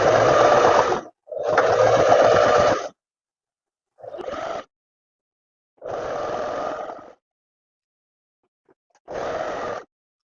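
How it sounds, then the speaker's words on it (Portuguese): A sewing machine stitches the armhole of a tailored vest in five bursts of rapid, steady running, the first two long, then shorter ones, each broken by clear pauses of silence. "Vou costurar a cava também agora"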